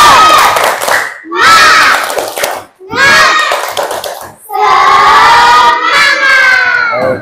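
Indonesian school students shout a rhythmic spirit clap chant together, bursts of loud group voices and hand claps in several phrases separated by short pauses, ending in a long sustained cheer.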